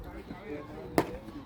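A bat strikes the ball once in a mixed-division baseball game at Stade du Rempart, a single sharp crack about midway through over a murmuring outdoor background.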